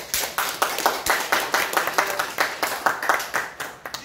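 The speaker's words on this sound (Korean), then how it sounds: "박수." A Daejonggyo audience claps in steady unison, about a dozen and a half crisp, evenly spaced hand claps over four seconds, close and fairly loud, with no talking over it.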